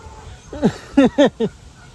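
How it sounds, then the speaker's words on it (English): Geese call from nearby in four short honking bursts, one then a quick run of three, each nasal and rising, standing out clearly over a quiet outdoor background. "now that the people are gone, all it is me and the endless amounts of geese"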